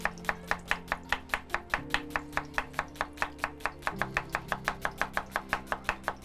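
A knife slices onions thinly, red and white, on a board in a steady, rapid rhythm of about forty crisp chops, close up, with a faint hum of kitchen background under the cuts and no talking.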